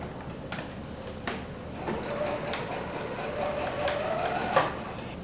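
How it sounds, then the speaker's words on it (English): A sewing machine stitches around the edge of a cushion, a steady close mechanical whir with rhythmic clicking and a few sharper knocks as the fabric is turned, fairly quiet with no talking. "you need to stitch round again on top of the first row of stitching"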